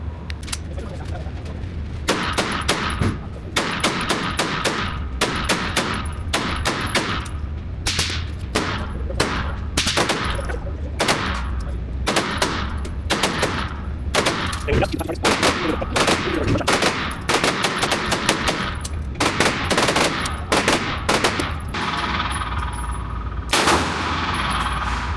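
Rapid gunfire from a Bear Creek Arsenal BC9 pistol caliber carbine at an indoor range, loud shots fired in quick bursts and strings across the whole stretch, with occasional metallic pings between them.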